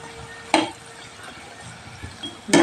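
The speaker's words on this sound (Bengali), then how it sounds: "ছেলের জন্য দেখো কটা পকোড়া ভাজছি, ওই যে চিকেন পকোড়া" Chicken pakoras fry in a pan with a steady, moderate sizzle, broken by a couple of sharp clinks of a utensil against the pan.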